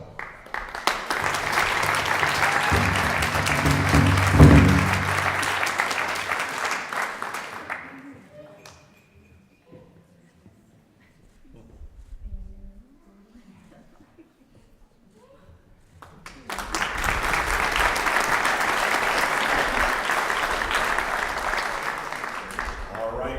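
Sustained audience applause at a graduation honoring ceremony, loud and steady, fading to a quiet stretch with some voices before a second long round of clapping.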